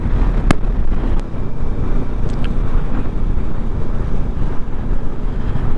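A loaded motorbike carrying a pillion rider strains up a steep high-altitude winter road in Spiti against a headwind. Its engine drones loud and steady, buffeted by heavy wind noise, with a few sharp clicks near the start.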